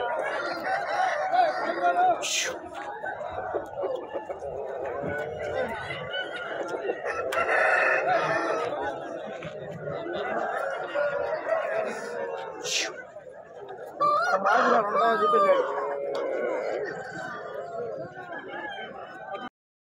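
Roosters at a village poultry market crow repeatedly and hens cluck nearby, with several loud crows rising over steady background chatter while someone talks throughout.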